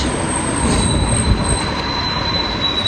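Metro or tram wheels squealing steadily on the rails in Eskişehir, a loud continuous high-pitched screech over a dense rumble of the moving train, with no one talking.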